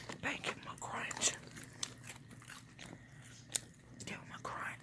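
Chick-fil-A chicken nuggets bitten and chewed close to the microphone, giving several short crisp crunches spread across the clip amid soft mouth sounds and quiet talk.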